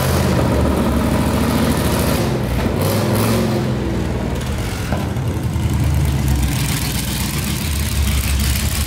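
Hellcat V8 engine in a Mazda Miata running on a dyno, loud dense mechanical roar with a steady drone and whirring, close and continuous throughout, with a brief dip and shift partway through.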